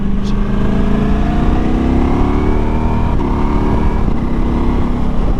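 A Ducati Multistrada V4S motorcycle fitted with an Akrapovic exhaust accelerates hard on the road, its raspy engine note rising steadily through the gears and staying loud and close throughout.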